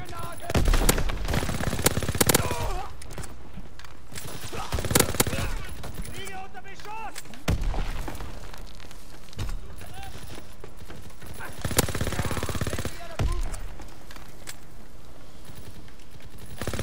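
Rapid automatic bursts from a submachine gun in Call of Duty: WWII, several loud volleys spread across the stretch with busy game effects and talk in between.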